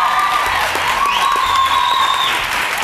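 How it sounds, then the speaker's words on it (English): A studio audience cheers and applauds the winner of a televised debate, a loud, continuous burst of clapping and crowd noise lasting a few seconds. "A round of applause for Tshwanelo Fokazi."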